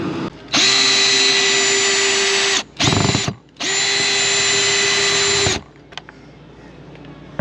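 A power drill pulls screws from an RV fitting in three close, loud whirring bursts, a long run, a short one, then another long run, with quieter shuffling between.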